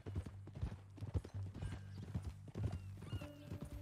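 Horse hooves clip-clopping in a steady walking rhythm, close and clear, with a brief whinny and some low background tones; a few spoken words pass faintly.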